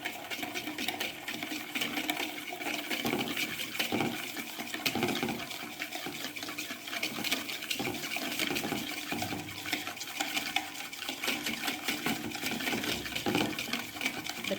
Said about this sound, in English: Now we need to whisk it properly.